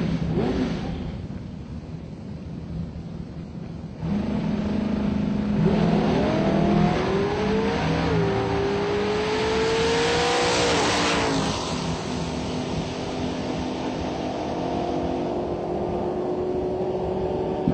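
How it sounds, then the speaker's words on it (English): Drag racing cars, among them an '88 Mustang, accelerate hard down the strip in an open comp round, engines rising in pitch with a loud roaring pass and steady crowd-like background noise, no talking. "Rudolph holds off the charge, goes 27 on a 12 at 118 miles an hour and will advance in the next round of Open Comp."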